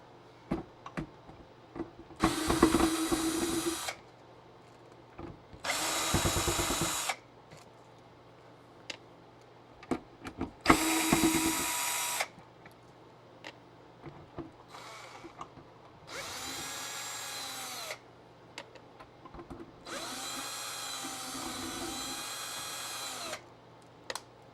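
A power screwdriver backs screws out of a vintage Nintendo console in several separate whirring bursts of a few seconds each. Quiet pauses and small handling clicks fall between the bursts.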